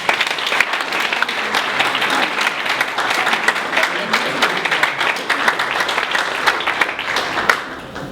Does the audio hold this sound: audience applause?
yes